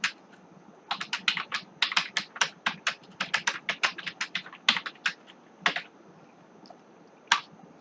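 Quick, irregular bursts of close computer keyboard typing while a Python program is written, with several pauses between runs of keystrokes.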